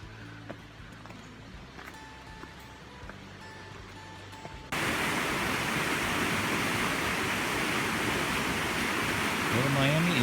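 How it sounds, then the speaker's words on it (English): Raging river rapids in a gorge at Clifton Gorge: quiet outdoor ambience gives way abruptly to a loud, steady rushing roar of water that fills the rest of the clip. "I hear the rapids, so they should be really raging."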